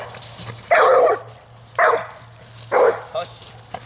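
A red-nose pit bull in prey-drive and impulse-control training barks three times in loud, close bursts spaced about a second apart, with a low steady hum running underneath.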